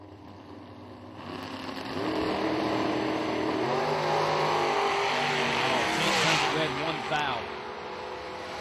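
Drag race at a Pontiac event pitting a Pontiac-powered 1996 Firebird against a dragster, engines building to a loud sustained roar with crowd and track ambience, a commentator talking over it.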